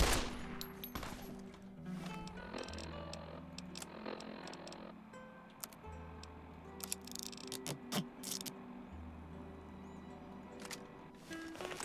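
Enemy gunfire in Fallout: New Vegas, with scattered sharp shots and short bursts from near and far while a low steady hum drones underneath at intervals.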